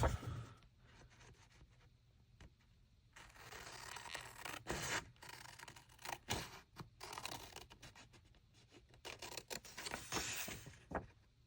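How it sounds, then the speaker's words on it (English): Scissors cutting out a paper craft piece up close, with soft, uneven snipping and rustling scrapes of paper that come and go, fairly quiet, no talking. "Okay, so we're just cutting this out."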